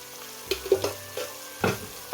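Soft sizzling of ginger and garlic paste frying in a pan with occasional scraping stirs, close by and fairly quiet, no voices.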